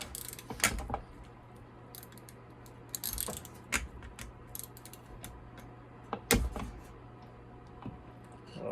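A worn ratchet wrench works on a McCulloch SP105 chainsaw, giving scattered close clicks and short ratcheting rattles with uneven spacing and a few sharper knocks, under a faint steady hum and with no talking.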